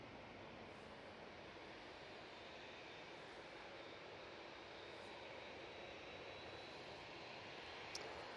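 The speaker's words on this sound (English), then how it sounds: "And the Dreamliner is now spooling up." A Boeing Dreamliner jet engine spools up at Manchester Airport, a broad steady roar heard from a distance that holds evenly throughout, with a faint click near the end.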